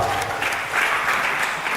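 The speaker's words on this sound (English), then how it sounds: "A round of applause for her" Applause from a club audience at a live event, a soft, steady patter of clapping hands that holds at an even level for a moment, with a faint murmur of voices underneath.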